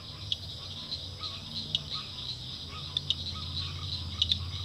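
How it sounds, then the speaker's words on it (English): Frogs and insects call together outdoors at sunset, a dense, continuous high trill with scattered sharper chirps over a low rumbling background, moderately loud and with no talking. "the froggies are waking up like that"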